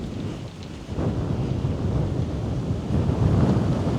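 Gusting wind buffets the microphone on a golf course, a steady low roar that surges louder partway through and again near the end, with no voices.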